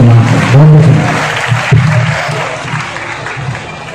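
Loud audience applause at a Hindi comedy poetry gathering, a broad wash of clapping that swells early and then slowly fades across several seconds, with some voices mixed in.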